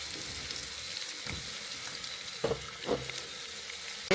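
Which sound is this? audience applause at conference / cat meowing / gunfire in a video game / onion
onion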